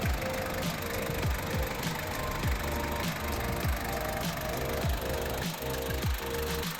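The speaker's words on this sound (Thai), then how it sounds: "เครื่องยนต์เสียงใสเสียงนิ่มมากๆนะครับ การทำงานของเครื่องยนต์ก็ถือว่าปกติมากนะครับ" The 2.5-litre diesel engine of a Ford Ranger XLT 4x4 pickup idles steadily with a rough, rhythmic knocking clatter, heard up close and alone.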